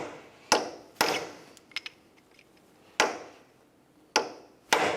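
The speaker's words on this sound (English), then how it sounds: "We'll do that using a hammer and punch." Sharp metal hammer strikes on a punch ring out one at a time at uneven intervals, peening an axle nut on a 2009-2010 Pontiac Vibe: five loud blows with a couple of lighter taps between them, close by.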